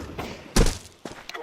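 An incendiary grenade lands in PUBG with a single dull thud, followed by a couple of softer knocks, while a voice talks lightly over it.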